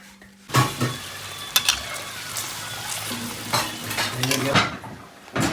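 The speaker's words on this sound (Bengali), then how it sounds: "এই চালটাকে ধুয়ে নিচ্ছি" Rice for pulao being washed in a pot, with scraping and stirring clatter and watery swishing, plus a few sharper knocks against the vessel, close and moderately loud with no talking.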